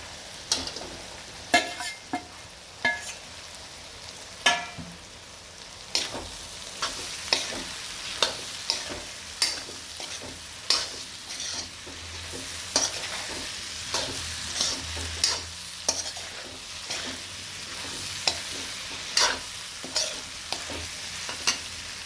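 Fried vegetables sizzling in a pan while a utensil scrapes and clacks against it in repeated, fairly regular strokes as they are stirred; no one speaks.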